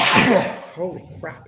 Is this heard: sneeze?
yes